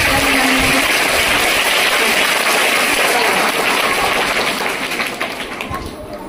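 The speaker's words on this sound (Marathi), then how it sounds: "महिला पालक वर्ग तुम्हा सर्वांसाठी पण खूप खूप टाळ्या" Dense, continuous applause from a crowd of women parents at a school Women's Day event, a loud even roar of clapping that thins and fades toward the end.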